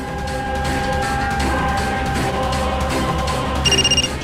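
A telephone rings unanswered in a home, heard as a short burst of pulsed electronic ringing near the end over a steady background drone.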